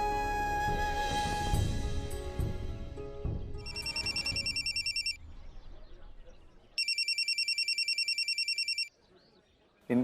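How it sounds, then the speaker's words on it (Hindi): A telephone rings in two electronic trilling bursts after a stretch of dramatic music and voices in a Hindi TV drama scene, the rings loud and close with a short silence between them. "इनको भी अभी फोन करना था।"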